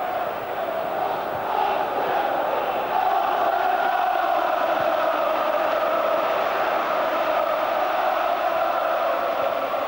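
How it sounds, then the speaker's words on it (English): Football crowd roaring in the stadium during an FA Cup fifth round match between Arsenal and Chelsea, a continuous loud swelling roar of thousands of voices with no break. "Well, the volume's been turned up now by the crowd."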